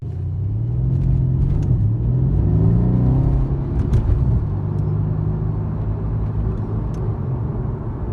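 A Mercedes-AMG C63 W205 cruises on a normal road, its engine giving a steady deep rumble from inside the car that swells slightly as it accelerates, then settles into a constant drone.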